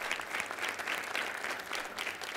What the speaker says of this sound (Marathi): जोरदार टाळ्या त्यांच्यासाठी झाल्या पाहिजे.